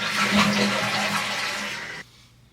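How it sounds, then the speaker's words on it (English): A toilet flushes up close with a loud rushing swirl of water that fades away, then stops abruptly into near silence. "Do I need to flush it again or something?"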